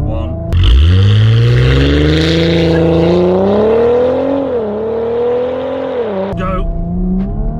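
A stock Audi S4 in sport mode launching in a drag race, its engine note climbing loud and steady through the gears from close by, with a brief shift break near the end.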